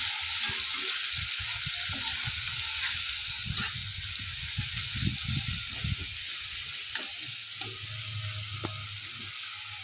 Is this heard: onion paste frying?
yes